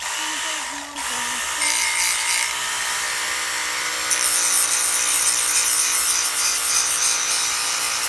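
A handheld power tool whines steadily while sanding and shaping the handle of a wooden spoon carved from scraps, a loud, continuous high buzz after a brief dip near the start, with no talking.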